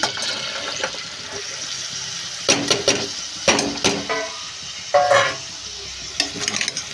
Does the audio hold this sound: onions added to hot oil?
yes